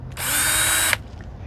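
A single short burst of a power drill running steadily for just under a second during assembly of a Furinno study desk, close and loud, stopping abruptly.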